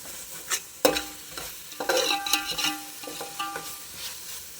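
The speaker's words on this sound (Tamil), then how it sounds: "இப்போ அந்த வெங்காயம் தக்காளி எல்லாம் வந்து எண்ணெயில் இந்த பச்சை மிளகா இந்த அரைச்சி வச்ச பேஸ்ட்டு எல்லாமே வந்து நல்லா கலந்துடணும்" Onion, tomato, green chilli and ground paste fry in groundnut oil for mutton biryani, stirred with repeated scraping and clanking strokes over a soft steady sizzle, close and alone.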